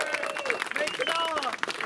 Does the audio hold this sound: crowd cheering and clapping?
yes